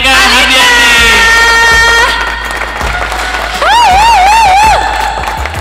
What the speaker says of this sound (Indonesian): Tepuk tangan dong buat Alinka Hardiyanti.